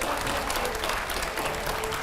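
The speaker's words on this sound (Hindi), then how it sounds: "जोरदार तालियां हो जाए" Loud, sustained applause from a television studio audience fills the whole stretch as a steady, dense roar of clapping, close and continuous with no pauses.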